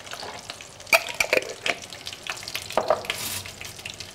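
A curry dish with oil, salt and water is stirred in a pan, giving a soft steady sizzle with scraping and clinking of a utensil at uneven intervals, close by and without talk.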